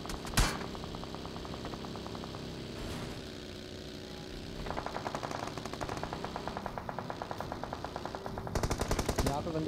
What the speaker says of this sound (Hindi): देखो भाई साहब कहाँ कहाँ से फायरिंग साउंड आने वाले हैं